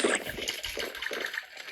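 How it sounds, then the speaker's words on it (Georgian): Wet sloshing and gulping water sounds run steadily for a couple of seconds, fairly loud and close. "წყალი დავლიოთ."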